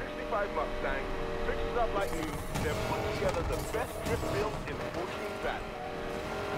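A car engine roars and tires slide as the car drifts sideways in Need for Speed Payback, chasing a Camaro, steady engine drone with rising revs under continuous talking.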